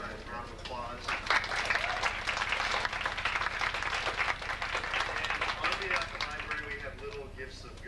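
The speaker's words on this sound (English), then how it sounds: "we should give them a round of applause." Sustained audience applause for three presenters after an art discussion, dense steady clapping from a crowd filling the room with no voices on top.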